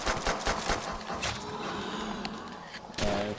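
Rapid bursts of automatic gunfire in Call of Duty: World at War zombies mode, dense and loud, rattling continuously before a louder final burst.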